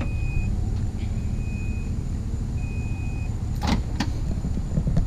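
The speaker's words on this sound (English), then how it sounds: "Just press it twice, automatically lowers the tailgate for you from anywhere." The power tailgate of a 2019 Chevy Silverado 1500 High Country lowers on its own with a low motor hum and broad rumble, interrupted by intermittent electronic beeps and ending with a couple of sharp clunks.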